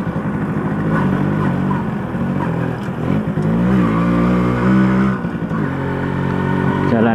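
A Suzuki RC 100 Bravo motorcycle is ridden hard at full throttle on an empty night road, its engine droning loud and steady with rising and falling revs throughout.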